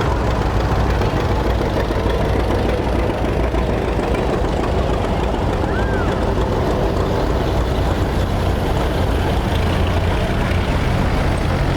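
An antique tractor engine runs continuously at a cotton gin festival, a dense steady rumble and knocking drone close by, with outdoor noise and no clear talking over it.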